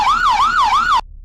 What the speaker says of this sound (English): Next up after that is the sirens.